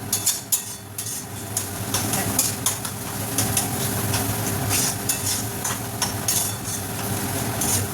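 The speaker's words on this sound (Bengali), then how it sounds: "এবার এটাও খানিকক্ষণ কষিয়ে এরকমভাবে কষিয়ে নিতে হবে।" Pointed gourd curry is sautéed in a pan, with a steady sizzle and hiss of frying under repeated scraping and stirring strokes, close and continuous throughout.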